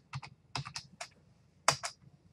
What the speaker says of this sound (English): So if you click on text, you can just type in your name.